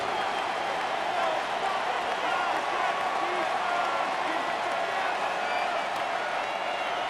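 Stadium crowd noise from the Madden NFL 26 video game during a Falcons vs Saints matchup, a steady, dense roar of massed voices holding at an even level throughout with no distinct peaks.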